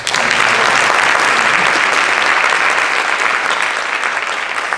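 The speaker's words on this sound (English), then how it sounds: "Another round of applause." An audience applauds at a school safety presentation, with dense, loud, sustained clapping that fills the whole stretch and fades slightly at the end.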